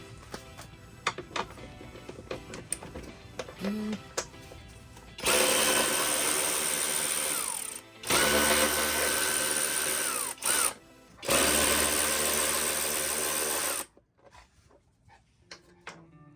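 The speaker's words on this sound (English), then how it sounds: "we're gonna take the electric ratchet and just a stubby Phillips head or screwdriver" Electric ratchet with a stubby Phillips bit whirring in three long bursts, separated by brief pauses, as it backs screws out of the plastic body panels on a 2006 Polaris Scrambler 500 ATV, with quiet handling clatter before and after.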